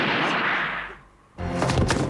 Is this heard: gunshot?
yes